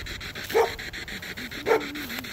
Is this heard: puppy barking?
yes